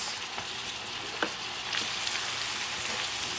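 Cod salad ingredients frying in oil and being moved around the pan, a dense steady sizzle with a few soft utensil knocks.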